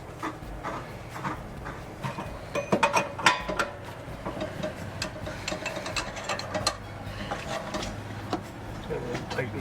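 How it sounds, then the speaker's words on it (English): A special wrench tightens a threaded fitting onto a seal in a full-time RV, giving a run of quiet ratcheting clicks and metallic ticks close by, with faint background noise and no speech. "And then tighten with the special wrench."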